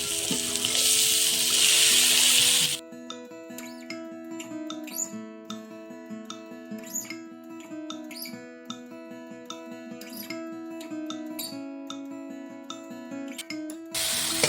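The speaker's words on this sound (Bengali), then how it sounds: "মটরটা ভালো করে কষানো হয়ে গেছে মশলা দিয়ে" Boiled peas sauté with potato and spices in a pan, a loud hissing sizzle at first, then softer frying with stirring clicks and scrapes over a constant tonal hum.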